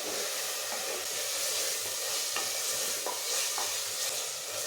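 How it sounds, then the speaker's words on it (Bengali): Spice paste of ground chilli and turmeric with a splash of water being stir-fried for mutton kosha, a dense steady sizzle with hiss and occasional spatula scrapes, close and fairly loud. "এখন মশলাটা খুব ভালো করে কষিয়ে নেব"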